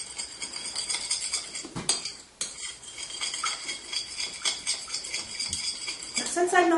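A utensil stirs melted butter in a pan for a cheesecake brownie batter, giving soft repeated scraping and light clinks with a brief pause midway, quiet and close.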